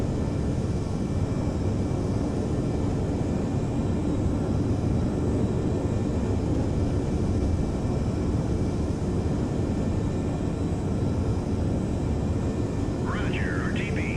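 Large formation of aircraft in the naval combat game Sea Power, a steady, loud broadband engine drone holding throughout, with a brief chirping tone near the end.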